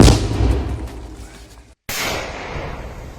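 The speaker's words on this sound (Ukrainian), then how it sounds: "Постріл!" A single loud weapon shot from a fire support company cracks at the start and its boom rolls away over a second, followed by open outdoor ambience, in Sumy region, Ukraine.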